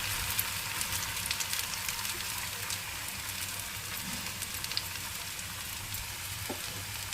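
Millet dosa batter sizzles steadily in oil on a hot pan, a close, continuous crackling fry with no talking over it.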